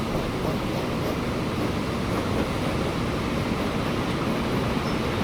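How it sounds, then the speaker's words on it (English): A train in the Transport Fever 2 video game rolls past as a steady, dense roaring rumble, loud and unbroken throughout with no gaps or distinct wheel beats. "Oh, another train!"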